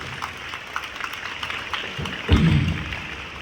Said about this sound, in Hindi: एक बार जोरदार तालियां भारतवर्ष के उन वीर सैनिकों के लिए